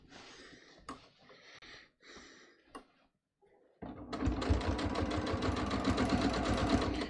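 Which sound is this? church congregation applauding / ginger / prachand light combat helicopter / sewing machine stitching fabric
sewing machine stitching fabric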